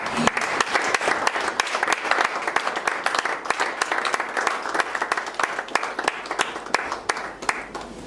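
A church congregation claps steadily to welcome an arriving pastor, the dense, continuous applause filling the room from start to finish.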